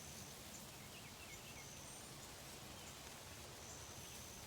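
Rain in video game audio, a steady soft hiss of falling drops spread evenly throughout, with faint bird chirps above it and no talking.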